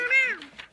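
A cat gives a single clear meow, rising then falling in pitch, close and fairly loud, followed by a couple of faint soft rustles.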